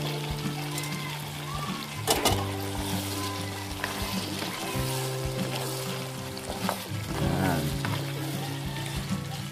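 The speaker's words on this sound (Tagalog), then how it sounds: "Lagay na natin mga kabayan yung ating patatas at carrots" Potatoes and carrots fry in a hot pan, giving a steady sizzle with some stirring clatter, while a low hum runs continuously underneath.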